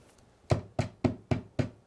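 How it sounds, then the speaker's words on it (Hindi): Five evenly spaced knocks on a door, sharp and fairly close, standing alone against a quiet background during a Hindi-Urdu sermon. "देख मैं दरवाजे पर खड़ा हुआ खटखटाता हूँ।"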